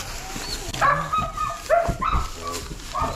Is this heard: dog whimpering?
yes